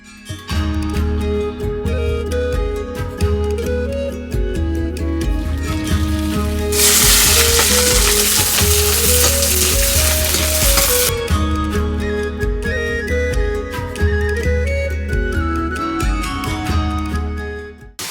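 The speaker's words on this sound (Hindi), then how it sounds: "जब भी सब्जी दाल वगैरह बनाते हैं तो उसमें सरसों का तड़का तो ज़रूर से लगाते हैं" Vegetables or dal sizzle loudly in hot mustard oil for a Pahadi-style tempering, a steady hiss of a few seconds that rises over continuous background music.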